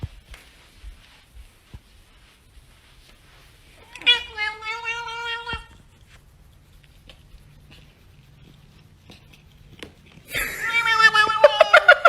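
A pet cat lets out a couple of drawn-out, wavering meows separated by a quiet pause, with the second call louder and more strained, heard close up indoors.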